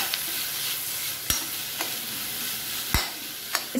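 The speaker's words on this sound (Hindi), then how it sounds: "अभी लाइट ब्राउन हो गए हैं तब हम इसमें डालेंगे टमाटर" Tomatoes go into onions frying in a pan for a paneer dish, with a constant sizzle broken by four or five sharp scrapes and knocks of a spoon while stirring; no voices.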